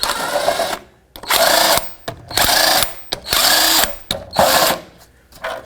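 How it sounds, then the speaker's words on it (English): An impact or power tool spins a 19mm socket to remove the plastic-capped screws holding a hubcap on a 2005-2010 Pontiac G6, sounding as five close, loud bursts of whirring separated by short pauses. "So I have to use a 19mm socket here."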